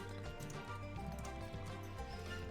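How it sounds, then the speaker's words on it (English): Horse in a video game: clip-clop hoofbeats in a steady rhythm under a busy, layered game soundtrack, brief and fairly loud, with no talking. "Horse. Of course."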